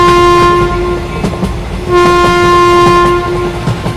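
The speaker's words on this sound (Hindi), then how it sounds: "तभी थोड़ी देर में इन लोगों की ट्रेन अगले स्टेशन पे आ जाती है।" A train pulls into a station with a steady loud rumble and rhythmic clickety-clack, while long horn-like tones sound, break off briefly and resume, and no one speaks.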